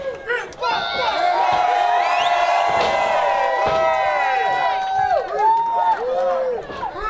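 A wrestling crowd at a Just For Laughs show in 2018 keeps up a loud, continuous roar of cheers, shouts and whistles before the opening bell, with an announcer's amplified voice over it.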